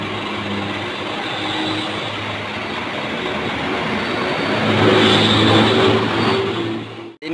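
A Metro Permai bus built on a Scania K360IB chassis with a Super Hideck body rumbles close by. The steady, loud engine and road roar swells as it nears and then cuts off abruptly at the end.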